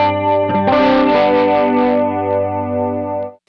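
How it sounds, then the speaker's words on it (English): Electric guitar through a detune pedal effect giving a shimmering, chorus-like wavering tone, a sustained chord struck near the start and ringing on loudly for about three seconds before stopping, no talk. "that detune effect actually sounds a lot like chorus"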